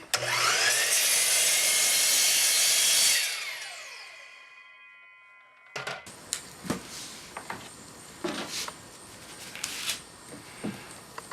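A track saw cuts across the end of a wooden board in one loud, steady whine that spins down, followed by scattered light knocks and handling clatter.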